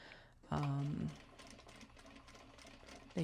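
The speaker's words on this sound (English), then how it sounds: "Now I will sew all of these before I trim them down." A sewing machine stitches welt pockets in Japanese fabric, starting with a loud close whirring burst, then carrying on more softly with a short second burst near the end.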